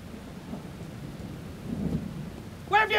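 Steady rain falls in a stormy night, with low rumbles of thunder rolling through and a brighter crack near the end.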